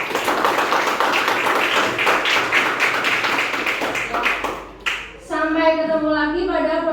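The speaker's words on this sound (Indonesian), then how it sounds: "Tepuk tangan untuk kita semua." Several people clap their hands in quick, steady rhythm, close and moderately loud, for about five seconds before a brief pause, then a voice speaks.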